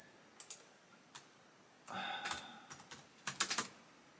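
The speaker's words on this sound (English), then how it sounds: "I'm gonna type in." A computer keyboard is typed on in soft, scattered clicks and a short flurry of keystrokes, faint and close in a quiet room.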